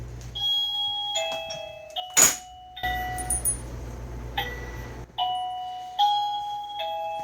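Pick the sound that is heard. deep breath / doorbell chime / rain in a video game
doorbell chime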